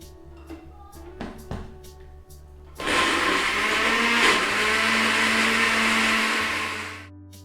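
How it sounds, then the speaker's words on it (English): A kitchen blender blending a pepper mix starts after a few light clicks and handling noises. It then roars loudly and steadily for several seconds before winding down, close up, with no speech. "keep doing this until I am done blending the pepper"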